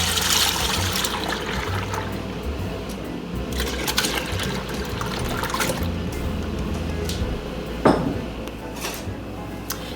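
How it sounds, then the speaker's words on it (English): Milk pours steadily into a stock pot for making farmer's cheese or paneer, a continuous liquid stream and trickle running for the whole stretch with a brief clunk near the end. "pour your milk into your stock pot"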